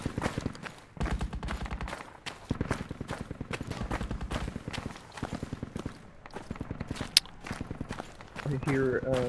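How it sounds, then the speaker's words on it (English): Infantry footsteps and bursts of gunfire in the military shooter Project Reality, rapid rhythmic steps with scattered shots, fairly loud and continuous over about nine seconds, with a voice talking over them. "I hear footsteps now."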